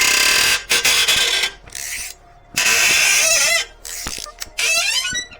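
Hose clamp being ratcheted tight on a Suzuki SV1000N motorcycle, bursts of rapid metallic ratchet clicking with brief pauses between strokes, close and loud.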